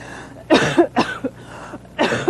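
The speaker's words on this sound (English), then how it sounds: "Want to hear the last of your cough?" A person coughs several times in short, harsh bursts, close up, with brief pauses between the coughs.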